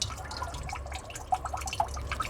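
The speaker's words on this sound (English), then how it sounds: "See, as soon as I let that go, some of the water comes through." Water draining through a clogged bathroom sink, heard as a close series of small drips and gurgling plinks at an irregular pace.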